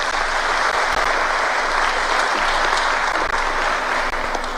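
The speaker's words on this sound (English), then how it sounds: "kindly just give them a round of applause" An audience at a burial service claps in steady, sustained applause throughout, with a dense patter of hands and no break.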